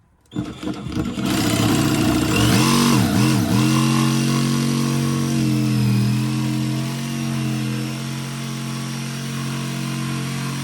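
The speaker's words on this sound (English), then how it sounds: "Let's use a jigsaw and just clean that up a little bit." A jigsaw cuts a clearance hole for a Chinese diesel heater intake during an off-grid camper install. It starts after a brief quiet moment, then runs as a loud, continuous motor whine that dips in pitch under load before settling.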